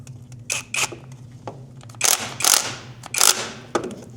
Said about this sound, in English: I just gave it a couple taps with my impact driver